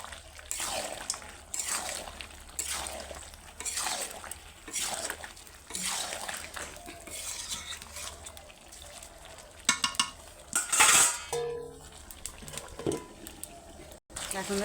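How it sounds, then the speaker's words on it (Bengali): Chicken and potato pieces being stirred and fried in a pan, with repeated scraping sweeps and soft sizzling under intermittent talk, and a brief clatter of a utensil near the end. "এবার আলুটাও এর সঙ্গে ভালো করে কষে নেব"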